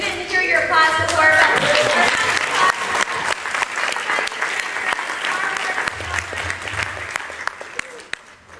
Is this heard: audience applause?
yes